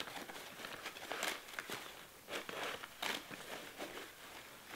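A papery layer of wasp nest crinkles and crackles as it is handled, giving faint, dry rustling with irregular brittle crunches close by and no talk.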